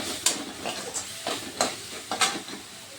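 Cumin, coriander and turmeric powders frying in oil, with a soft sizzle under a few sharp, evenly spaced scrapes of a spatula against the pan, close but fairly quiet.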